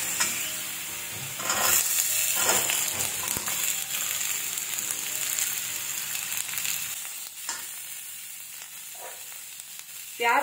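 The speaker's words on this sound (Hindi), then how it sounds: "इसको हल्का सा भूनने के बाद हम इसमें प्याज डाल देंगे।" Ginger and onion frying and sizzling in a pan for vegetable fried rice, a steady close hiss with bursts of stirring scrapes, no voices.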